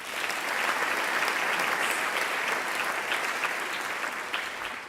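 A large group of newly commissioned military officers at an Officer Training School ceremony applauds in a sustained, even burst that tapers off slightly at the close.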